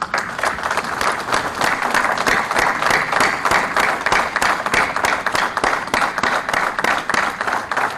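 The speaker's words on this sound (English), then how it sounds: "so that we can clap for them." An audience at a formal event in Islamabad applauds the presiding officers of model courts, with loud, sustained clapping that falls into a steady, near-rhythmic beat for about eight seconds.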